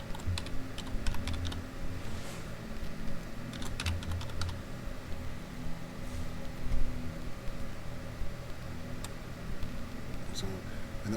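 Quick, light keystrokes patter on a computer keyboard as text goes into an Excel spreadsheet. The clicks come in irregular bursts over a faint steady room hum.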